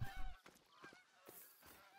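Geese honking faintly in the distance in the video game theHunter: Call of the Wild, several short nasal calls in an uneven sequence over a low rumbling background.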